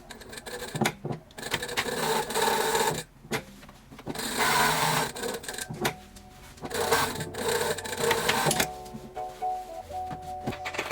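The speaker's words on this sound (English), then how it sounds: "I'm going ahead to sew around the edges of the pocket" A sewing machine runs in several bursts of stitching around the edges of a vest's welt pocket, with short pauses between runs and some handling rustle; no talking.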